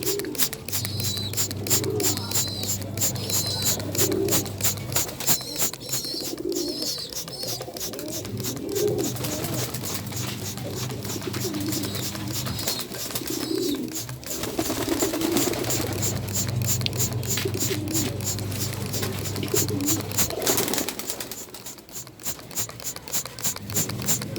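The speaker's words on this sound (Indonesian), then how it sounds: "memandikan burung dara" Domestic pigeons coo repeatedly during a morning wet bath, their calls mixed with steady splashing and patter of water and scratching, continuous and close throughout.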